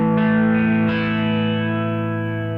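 Electric guitar through a Roland JC-120 amplifier with its vibrato engaged, a sustained chord wavering in pitch and shimmering as it slowly fades, heard alone.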